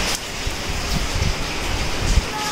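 Steady rain falling outdoors makes a dense, even hiss with soft scattered patters and a few faint bumps, fairly close and continuous, with no talking.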